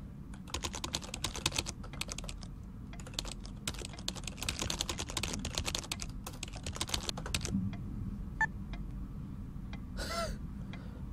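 Fast, close clattering of computer keyboard keys during a text game, steady bursts of typing with short pauses and a few isolated taps near the end.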